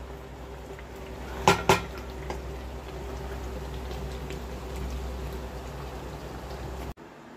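Two sharp metallic clanks ring out as a lid is set onto a pot of chili chicken, followed by a quiet, steady kitchen hum.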